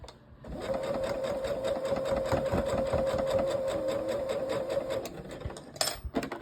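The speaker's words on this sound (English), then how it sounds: "All right, let's get back to sewing. I like to start off slow so I don't get it grabbed." A sewing machine stitches quilt fabric in one steady, close run of about four seconds, its even motor hum and needle chatter starting gently and stopping abruptly, followed by a few faint handling clicks.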